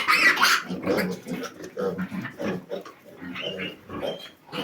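Two-and-a-half-month-old crossbred piglets grunting and squealing busily together at feeding time, a dense, continuous chorus of snorts and oinks close by, with a brief higher squeal at the start.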